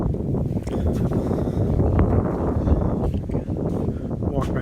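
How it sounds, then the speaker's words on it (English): Outdoor wind buffets the built-in microphone of a Sony RX100 camera, a continuous low rumbling roar that stays loud and fairly steady throughout. "We should be able to hear some wind sounds."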